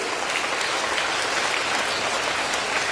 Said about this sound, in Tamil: இந்த கைதட்டு பத்தாதுன்னு நினைக்கிறேன் உங்க அம்மாக்கு.